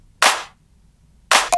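A clap loop sample for a mid-tempo electronic track plays two crisp, dry claps about a second apart. Both are short and punchy against silence, and the second has a faint ringing tone trailing after it.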